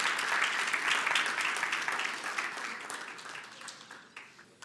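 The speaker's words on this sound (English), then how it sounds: "Let's give them a round of applause as they step up" An audience at a debate final applauds as the debaters step up, a steady patter of many hands clapping that slowly fades over a few seconds.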